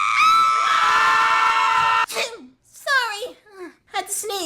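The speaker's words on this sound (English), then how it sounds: "Had to sneeze." A sneeze compilation: a long, loud, strained high-pitched vocal wind-up ending in a sharp burst, followed by several short voiced exclamations and squeals nearby.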